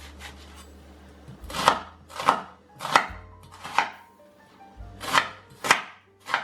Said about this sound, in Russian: Лук я буду резать мелким кубиком.